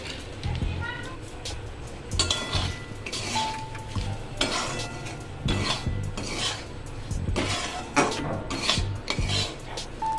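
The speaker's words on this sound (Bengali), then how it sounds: "এবার আমি সুজিটা এর মধ্যে দিয়ে দেব, দিয়ে সুন্দর করে ভেজে নেব।" Semolina (sooji) is stirred and roasted with a bay leaf in a pan over low gas; a spoon scrapes and rasps steadily against the pan in repeated strokes, with faint sizzling and a voice talking in the background.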